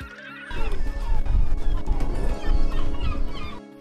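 Seagulls call over the fishing port at Essaouira, Morocco, their squawks rising from a dense wash of harbour noise and bustle, loud and continuous throughout.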